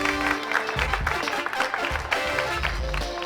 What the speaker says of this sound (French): on va repartir donc pour le deuxième essai avec encore vos applaudissements